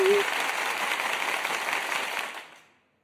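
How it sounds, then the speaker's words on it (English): A short canned applause sound effect played during a live news show, a dense wash of clapping that holds steady and then fades out quickly near the end. "let's get the applause going"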